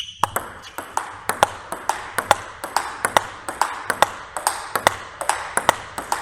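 A table tennis ball is struck with a Butterfly Harimoto Innerforce ALC blade, producing sharp, bright pings in a fast regular rally rhythm, about two to three hits per second, with crisp bounces between them.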